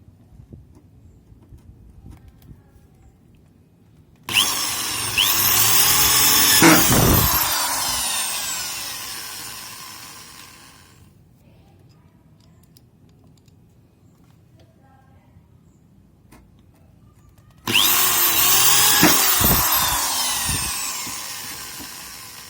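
A drill driver runs a wood screw through gypsum board into a metal frame in two loud bursts of whirring and grinding, separated by a quieter pause.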